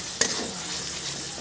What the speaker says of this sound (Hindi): हल्के पानी डाल के इसको फ्राई कर लेते हैं।